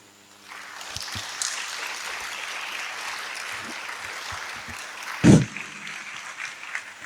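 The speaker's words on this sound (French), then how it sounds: "On applaudit encore là." An audience applauding after a talk on Christ, a steady wash of clapping that holds for several seconds, with a loud thump partway through and a few scattered claps as it fades.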